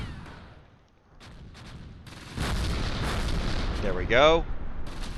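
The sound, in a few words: tank gunfire in Close Combat video game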